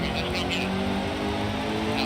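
Race car engines at Talladega in NASCAR Heat 2, Xfinity series, a steady loud droning roar of a pack running together, with a person talking over it.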